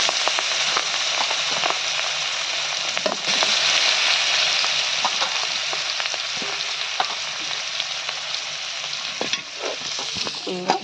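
Potatoes fry in a pan during early-morning home cooking, giving a loud, steady broadband sizzle that runs the whole stretch, with scattered crackles and the occasional scrape of stirring.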